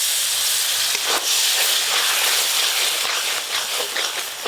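Water poured into frying ground spices, cumin, coriander and red chilli paste in oil, gives a loud, steady hiss of sizzling that runs throughout with small crackling bursts.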